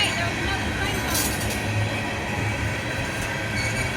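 A CSX tanker train rolls past slowly at a level crossing, a steady distant rumble of wagons and wheels that keeps on without a break.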